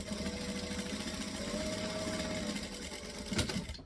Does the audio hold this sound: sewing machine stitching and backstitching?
yes